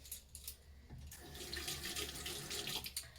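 Tap water runs steadily into a sink while makeup brushes are washed, a close, continuous splashing stream that swells louder after the first second and keeps going to the end, with no talking.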